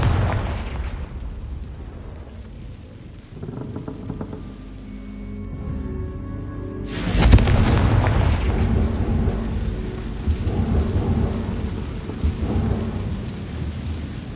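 Booming spell blasts from the Confringo curse in Hogwarts Legacy burst out, a heavy rumbling explosion swelling midway and decaying into a crackling, rain-like wash.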